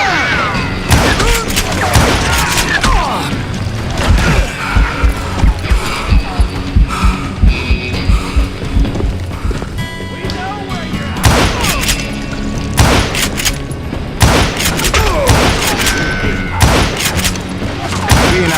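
Gunfire in the Western shooter Call of Juarez Gunslinger, rapid repeated shots and thumping bursts crackling in clusters over a steady music bed, loud and dense throughout the fight.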